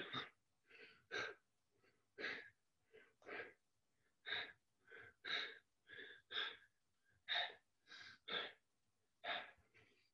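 Heavy, rhythmic breaths puff out in about fifteen strong bursts during an at-home legs and core workout, close and alone without speech.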